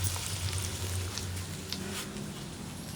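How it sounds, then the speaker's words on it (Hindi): Onion, garlic and ginger fry in a pan with a steady close sizzle and light crackle, unbroken and heard alone. "तो यहाँ प्याज, लहसुन और अदरक जो वो फ्राई होना शुरू हो चुका है।"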